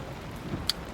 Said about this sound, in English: so you knew there was going to be rain today. And sure enough, rain.